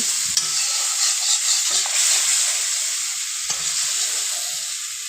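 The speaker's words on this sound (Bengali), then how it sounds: "আবার একটু খুন্তির সাহায্যে নেড়ে নেব" A spatula stirs onion paste and chopped tomato in a frying pan, giving a steady, close sizzle with a few scraping strokes and light knocks against the pan.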